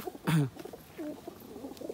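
Big-size Kaldam pigeons of Indian, Pakistani and Chinese types cooing, one loud short coo followed by fainter softer coos nearby, no talk.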